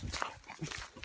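A dog barks and growls in short, loud bursts during a fight in which it is bitten on the muzzle, with rough scuffling between the barks.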